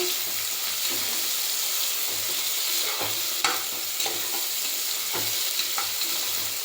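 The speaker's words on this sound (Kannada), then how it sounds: "ಈರುಳ್ಳಿ ಫುಲ್ ರೆಡ್ ಆಗೋವರೆಗೂ ನಾವು ಫ್ರೈ ಮಾಡ್ಕೋಬೇಕು" Chopped onions fry in a pan for fenugreek rice, a constant close sizzle with occasional scraping stirs and light clinks, no voices over it.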